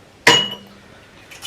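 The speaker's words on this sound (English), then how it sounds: "That's handy though, we've got ice cubes if you want a nice glass of iced water." Ice cubes clink sharply against a small latte glass in a holiday rental kitchen, one bright chink followed by a short rattling decay, close and alone.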